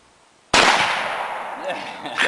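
A single sharp, loud report from a Mosin-Nagant M38 carbine rifle fired outdoors, with a sudden blast followed by a long decaying echo rolling over the surroundings.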